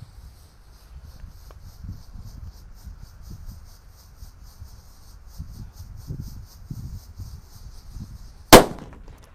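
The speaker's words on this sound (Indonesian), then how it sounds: "Ini mercon disco Happy Flower-nya yang sudah saya buntel. Kita nyalakan ya." A paper-wrapped Happy Flower disco firecracker, lit during Ramadan festivities, goes off as one sharp, loud bang near the end, after a long stretch of quiet low rumbling and faint shuffling.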